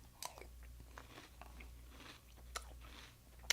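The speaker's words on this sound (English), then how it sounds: "So I'm gonna eat a bowl of cereal while I check this guy out." Someone crunching and chewing a bowl of cereal close up, a string of soft bites and crunches with a few sharper crackles, quiet overall and no talking.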